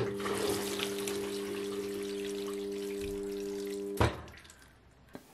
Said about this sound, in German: das Wasser etwas weiter vorne rauskommt als bei diesem ersten Spülgang und damit wird hier dieses Sieb gespült